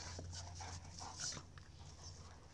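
A dog pants steadily in quick, breathy bursts with a faint whimper mixed in, fairly close but quiet over a low steady hum.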